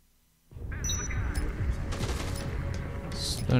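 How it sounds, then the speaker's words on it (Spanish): Rapid bursts of automatic gunfire rattle through the Dead Rising 2 video game casino as looters fend off zombies, a dense, loud fusillade of overlapping shots that continues without a break. "ya escucho los balazos"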